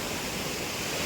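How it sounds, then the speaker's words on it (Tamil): Ban Jhakri waterfall roars as a steady, dense rush of falling water, heard close and loud with no voices over it. "அப்படியே அருவி என் கையிலேயே வாங்குறேன்."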